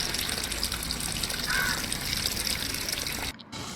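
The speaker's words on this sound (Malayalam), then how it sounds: "അപ്പോൾ ഇത് വെള്ളം നിറയുന്നുണ്ട്" Continuous rushing of water pouring into a semi-automatic washing machine tub, steady and fairly close, then cutting off abruptly just before the end.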